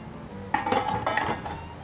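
Sauce goes into a hot wok for a tofu dish while metal clinks and scrapes against the pan in two short bursts, close and moderately loud, with no voices.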